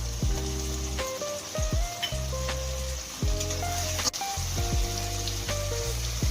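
Chili, garlic and ginger paste frying with softened tomato in a pan for a chana and mutton-fat dish, a steady close sizzle with stirring scrapes and low harmonic hums running throughout.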